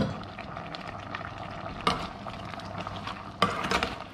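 Pasta added to a pan of cooked mushrooms sizzles and fries steadily while being stirred, with two sharper scraping clatters of the utensil against the pan, close and moderately loud.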